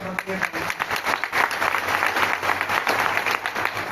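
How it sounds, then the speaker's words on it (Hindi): Audience applause after a call for loud clapping at a Vestige marketing plan meeting in Delhi, a dense sustained crowd clatter lasting the whole stretch, with a voice heard briefly over it at the start. "एक बार जोरदार तालियां"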